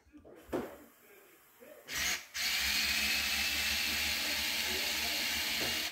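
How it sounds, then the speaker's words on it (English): An electric screwdriver fitted with MIP drivers works on a Redcat remote-control car engine cover, whirring in a brief burst and then in a long steady run, close and loud. "I'm using MIP drivers and a electric screwdriver"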